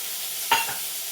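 Leftover dal being tempered with a hot tadka, giving a short burst of sizzling as the hot oil hits, then a fading hiss under steady background noise, with no talking.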